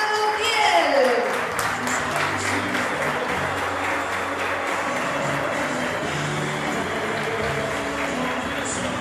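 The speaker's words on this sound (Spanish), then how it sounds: "Recibimos con un fuerte aplauso a Daniela Montiel." Loud audience applause welcoming a woman at a news event, broad steady clapping that carries on for several seconds over a low background hum, with a voice briefly heard at the start.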